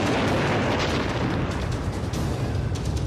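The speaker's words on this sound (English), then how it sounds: "That's also a very impressive explosion sequence." A big action-film explosion sequence: a dense, continuous roaring rumble with crackling bursts, loud and sustained with no talking.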